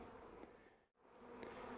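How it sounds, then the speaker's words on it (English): Honey bees buzzing as they return to a hive on a branch after a swarm, a steady, dense insect hum that dips briefly and then swells back, close and continuous. "we have a lot of bees starting to come back to the branch here, come back to this hive"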